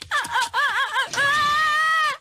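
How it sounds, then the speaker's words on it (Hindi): Screaming voices, a wavering cry followed by a long sustained high-pitched scream, loud and close. "वो चीखने की आवाजें कहाँ से आ रही हैं?"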